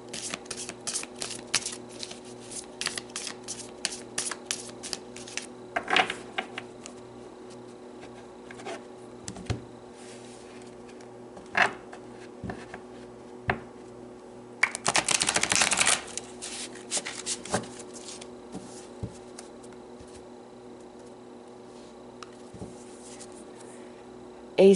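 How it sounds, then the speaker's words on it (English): Tarot cards are shuffled and pulled, with soft rapid riffles and slides, sharp flicks and one longer shuffling burst, close and quiet over a faint background hum. "Let's pull some tarot cards."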